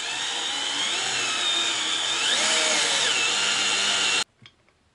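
Power drill driving long screws into wood, a loud steady whirring whine with shifting pitch that holds for about four seconds, then cuts off abruptly, leaving a few faint knocks.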